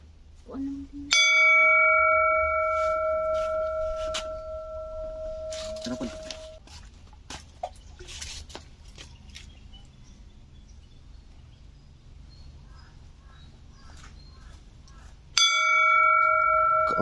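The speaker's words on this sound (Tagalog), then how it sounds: "Drop your coins, say your wish, and ring the bell." A bell at a wishing well on Limasawa Island rings out with a clear, sustained metallic tone that slowly decays, struck once early and again near the end, with people chatting and outdoor ambience in between.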